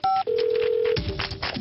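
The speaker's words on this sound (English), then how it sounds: "Please leave a message after the tone." Answering-machine message tone: a short high electronic beep followed by a long, steady, loud lower tone of under a second, then a muffled rustle and a brief noise burst afterward.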